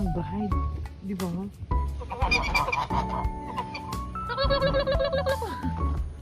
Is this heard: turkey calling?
yes